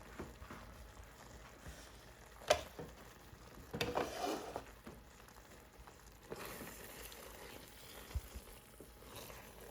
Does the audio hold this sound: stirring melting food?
yes